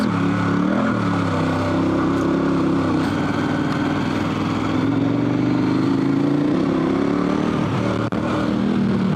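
A dual sport motorcycle on Dunlop TrailMax Mission tires rides on through puffy snow, its engine droning loud and steady and rising and falling in pitch as the throttle changes, close up and with no talking.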